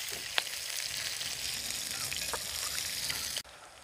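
Masala for stuffed squid fries in a pan, a close, continuous sizzle with a couple of sharp spluttering pops, then the level drops suddenly just before the end.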